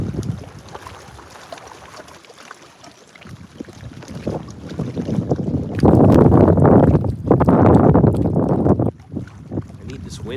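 Gusty wind buffeting the microphone on a lake while fishing from a boat in Ontario, building from a low rumble to loud roaring gusts, with faint talk mixed in.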